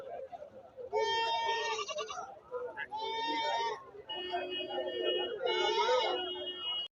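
Rams bleat repeatedly at a large livestock market, several loud, wavering calls close by with brief gaps between them, while people talk in the background.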